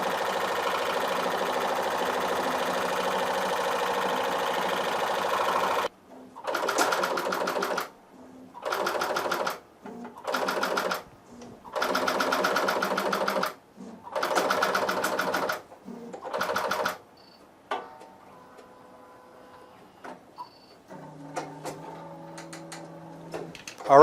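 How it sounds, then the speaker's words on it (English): A ProSpangle bling transfer machine applies spangles at about 800 per minute in fast, loud mechanical bursts with short pauses between them. Quieter clicking and tonal machine hums follow as the run winds down. "Now this is running right now at about 800 spangles a minute, so you can get an idea of how fast it's going."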